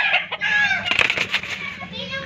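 A young rooster, a stag, crows once close by with a short, rough, strained call, alone in a brief outdoor moment.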